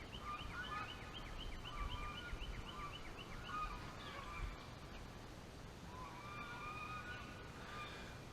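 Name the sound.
geese calling at a lake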